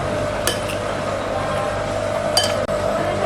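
A spoon stirs a tempeh mixture in a bowl, giving a couple of brief, sharp clinks against the dish over a low background.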